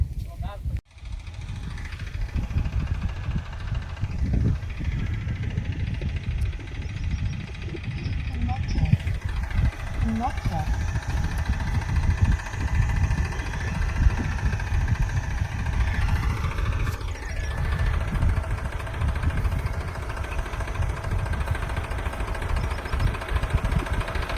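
A farm tractor engine runs steadily at a village field, a continuous low rumbling drone that persists under people talking nearby throughout.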